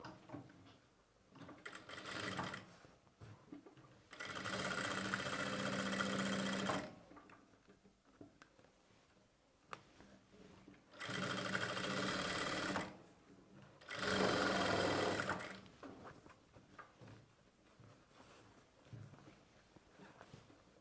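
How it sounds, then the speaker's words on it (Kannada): A sewing machine stitches piping onto the lining of a blouse with a square neck, running in several steady whirring bursts of a few seconds each, close up, separated by quieter handling pauses. "ಇಲ್ಲಿ ಪೈಪಿಂಗ್ ಪಕ್ಕದಲ್ಲಿ ಲೈನಿಂಗ್ ಮೇಲೆ ಒಂದು ಸ್ಟಿಚ್ನ ಮಾಡ್ಕೊಳ್ಬೇಕು"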